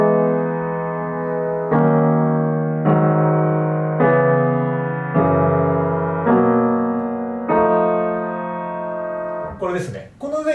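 Piano chord progression, eight held block chords sounded one after another at a steady moderate pace, close and full, ending with a brief spoken moment.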